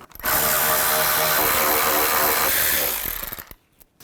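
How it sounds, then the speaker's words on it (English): A power tool with a 10mm socket backs out a coolant reservoir bolt on a Chevy Traverse, a steady loud whirring burst lasting about three seconds before spinning down and stopping. "To get this reservoir out of the way, I'm just going to take these three bolts out."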